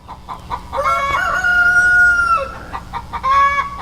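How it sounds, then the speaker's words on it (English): A rooster crows loudly nearby, a long drawn-out call, with chickens clucking around it before and after. "those chickens are really fired up"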